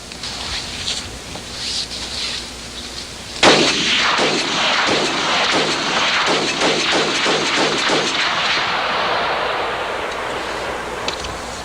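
A Barrett M82A1 semi-automatic rifle in .50 BMG fires with one loud, sharp blast partway through, followed by a long rolling echo that fades slowly over several seconds outdoors.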